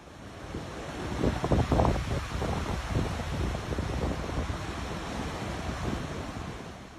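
Storm surge waves wash over a California beach, a continuous roar of surf mixed with heavy wind buffeting the microphone, steady and loud throughout with no voices.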